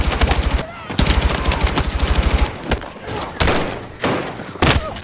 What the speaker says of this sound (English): you see the dude shooting at me with a shotgun